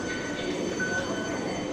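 A Beijing Metro train in motion, a steady rumbling ride with a brief faint wheel squeal, heard from inside the carriage with no speech.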